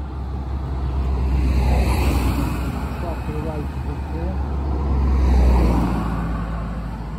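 Road traffic in Stockbridge passes close by, a steady rumble of cars and trucks swelling and fading twice over several seconds, with faint voices in the background.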